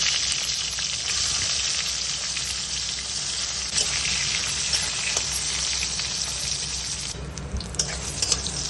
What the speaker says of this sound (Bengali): বেগুনগুলো আলাদা আলাদা করে ভেজে নেব